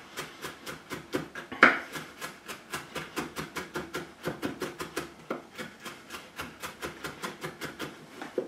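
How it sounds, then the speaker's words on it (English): A knife chops cilantro on a cutting board in a fast, even rhythm of crisp close taps, a couple dozen strikes with a brief pause midway, and no talk. "Cilantro, chopping it up."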